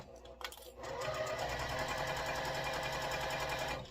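A sewing machine stitches fabric for a small Post-it note case, starting with a few clicks and then running in a loud, steady, rapid mechanical whir until it stops just before the end.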